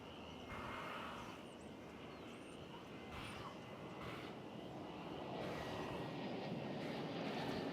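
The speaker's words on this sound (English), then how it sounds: "let's get a look at the Qatar A350-1000 as it slowly moves our way" A Qatar Airways Airbus A350-1000 jet slowly taxiing at DFW Airport, a faint, steady distant engine roar and whine with wind and background noise around it.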